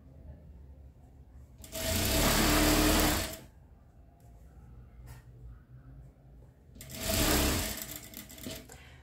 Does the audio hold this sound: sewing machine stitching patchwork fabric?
yes